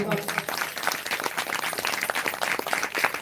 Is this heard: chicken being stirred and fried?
no